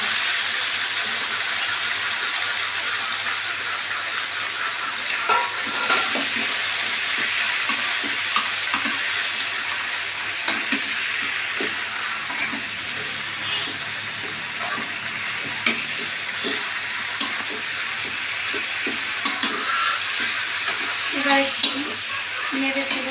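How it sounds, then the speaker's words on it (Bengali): Malabar spinach with green chillies hitting hot oil with fried nigella seeds, a loud steady sizzle and hiss of frying that persists throughout, with occasional stirring scrapes and clatters. "আমার কালো জিরেটা ভাজা হয়ে গেছে এবার আমি দিয়ে দেবো পুঁই শাকগুলো"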